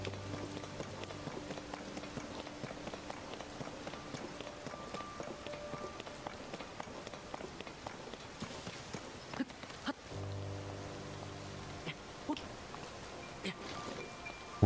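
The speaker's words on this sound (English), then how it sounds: "It's probably not a great time for it to be raining." Steady rain patters throughout a scene in Zelda: Tears of the Kingdom, a soft continuous wash mixed with game music tones, footsteps and small effects, with a brief break near the ten-second mark before the rainfall resumes.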